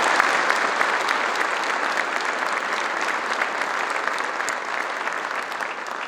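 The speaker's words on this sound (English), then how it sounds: "Let's give them all a round of applause." Sustained applause from a large audience at a Hall of Fame induction ceremony, a dense, steady wash of clapping that holds at an even, fairly loud level throughout.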